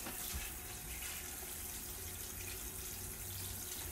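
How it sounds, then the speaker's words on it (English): Water running from a newly installed ECOHEAD sprayer on a salon shampoo bowl, a faint, steady hissing spray that holds evenly throughout without pause, with no talking. "It's still dripping"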